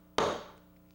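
A hammer strikes a nail once, giving a single sharp, close knock that fades quickly into quiet.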